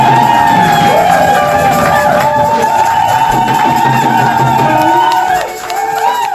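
Wedding guests cheer loudly for the bride's father, a dense roar of voices with whoops and shouts that holds steady before dipping near the end.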